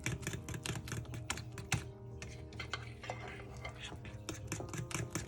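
Mashed bananas and flour stirred into a thick fritter batter for Jamaican banana fritters, giving a run of quick clacking and scraping strokes against a bowl, fairly close and steady.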